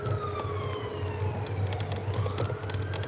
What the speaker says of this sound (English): unfortunately it looks like there's an ambulance somewhere